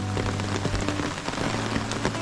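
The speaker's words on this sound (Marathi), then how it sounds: "मस्त पाऊस पडतोय साखरब्यामध्ये" Steady monsoon rain falls in Sakharpa in the Konkan, a dense continuous patter on surfaces, close and even throughout with no voices.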